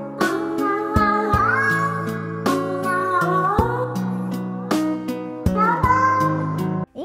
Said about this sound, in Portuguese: vendo vídeo bobo do gatinho fazendo cesta, cantando